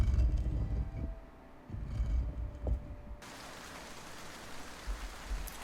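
Rain falling in the Morroblivion Elder Scrolls game, a continuous soft hiss that rises to a fuller wash partway through, with low thumps and rumbles from gameplay underneath.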